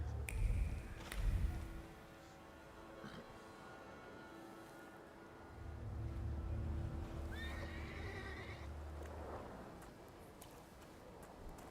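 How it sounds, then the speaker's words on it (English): A horse whinnies and neighs loudly, with hooves clip-clopping nearby and a brief, shrill high whinny partway through; no one speaks. "I meant to take the horse out for a ride"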